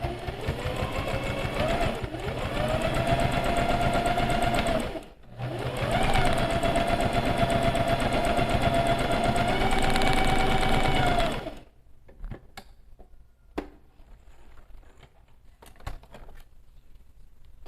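A sewing machine stitches quilted matelassé fabric for a handbag in two long, steady runs with a short pause between them, then stops, leaving quiet room noise and a few small clicks.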